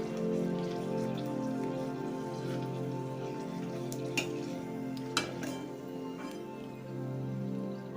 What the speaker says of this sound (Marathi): एकदम टम्म अशा फुगायला लागले मस्त आपलं कडकडीत तेल तापलं होतं